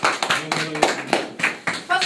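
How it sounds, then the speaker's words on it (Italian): Scattered hand claps over a couple of seconds mixed with voices talking and calling out, close and lively, backstage as a group applauds. "Applauso generale."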